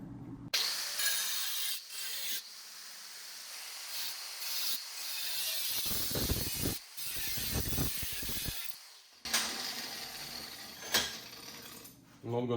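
Tin snips or shears cut a sheet metal panel for a 1966 Triumph GT6 wheel well, giving close, irregular crunching and scraping bursts with brief pauses between cuts. Faint talk can be heard.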